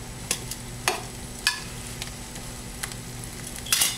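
Broccoli rabe hits a pan of softened shallots over medium heat, giving a quiet, steady sizzle broken by a few sharp clinks and scrapes of stirring.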